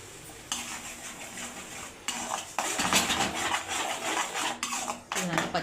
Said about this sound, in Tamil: அதை போட்டு நல്லா வதக்கிக்கலாம்.